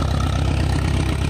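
An Allis Chalmers D17 tractor engine chugs steadily while being driven, a loud, close, low rumbling throb with an even pulsing beat throughout and no voices.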